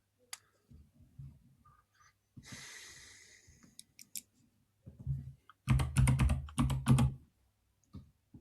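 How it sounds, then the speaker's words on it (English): A loud computer keyboard right beside the microphone clatters with close, sharp keystrokes in irregular bursts, heaviest toward the end, alongside audible breathing. "This is such a loud keyboard. It's right next to the microphone as well"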